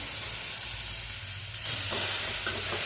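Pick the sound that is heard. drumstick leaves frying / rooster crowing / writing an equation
drumstick leaves frying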